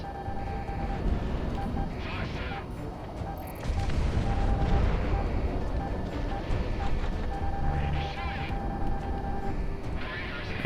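Aircraft guns and missiles fire in the combat flight game Project Wingman, a dense rumbling barrage of booms and rapid gunfire over jet engine roar, swelling louder midway and staying busy throughout, with a voice talking at times.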